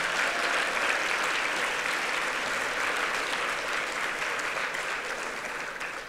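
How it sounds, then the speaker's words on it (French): An audience at a Grand Bal fundraiser for suicide prevention applauds the young volunteers active in local organizations; a thick, even wash of many hands clapping continues throughout, fading slightly toward the end. "J'aimerais ça qu'on donne une bonne main d'applaudissement à tous nos jeunes qui s'impliquent dans nos organisations."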